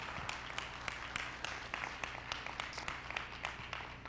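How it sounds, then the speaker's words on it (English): A student summit audience applauds continuously at a faint distance, a dense spread of many hands clapping at a steady level the whole way through. "Give yourselves a round of applause for being here."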